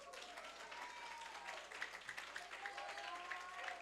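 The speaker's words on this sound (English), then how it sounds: "And then big round of applause to Sai Prashant." Faint, distant applause patters on steadily, with a few brief bright chirps above the soft wash of clapping.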